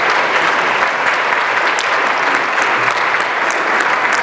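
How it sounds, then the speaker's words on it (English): A crowd at a mayoral candidate forum applauds. The clapping is loud, dense and continuous, holding steady throughout with no voices on top. "Let's give both of them one last round of applause."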